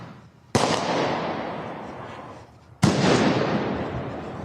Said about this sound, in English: Fireworks Georgia. are going off